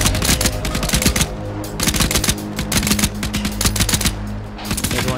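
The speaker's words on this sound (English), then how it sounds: "Shots fired, shots fired." Rapid automatic gunfire in ArmA 3, dense overlapping bursts of shots cracking continuously and loudly for several seconds with brief pauses between volleys.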